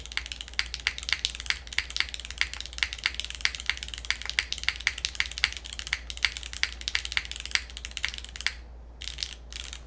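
Rapid, steady typing on a mechanical keyboard with milky yellow switches, an aluminum plate and GMK keycaps, with dense clacky keystrokes close up that pause briefly near the end.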